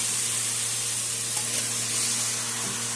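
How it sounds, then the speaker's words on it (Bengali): Flat beans go into a pan of frying green-chilli spice paste, producing a loud, steady hissing sizzle close by, constant and unbroken for the whole stretch with no talking. "হয়ে গেছে, এখন আমি সিমগুলি দিয়ে দেবো।"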